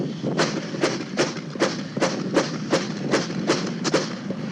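Sustained gunfire from a Pennsylvania State Trooper's shootout with a suspect, a magazine dump after a reload: about a dozen evenly spaced sharp shots in a steady rapid rhythm, somewhat distant and reverberant.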